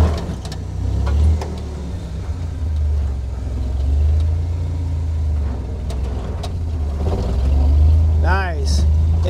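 A 1946 Willys Jeep with a Buick V6 225 odd-fire engine crawls up rocks in granny low, its low engine drone rumbling steadily and close while someone talks over it.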